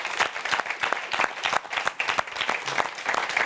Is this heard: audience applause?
yes